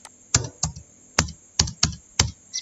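Six separate, sharp computer keyboard key presses, close and fairly loud, spaced unevenly about half a second apart, with no talking.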